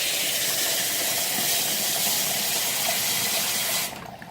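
A Keurig coffee maker running a vinegar rinse cycle gives off a steady, loud steamy hiss with rushing water, holding constant before dropping away abruptly near the end.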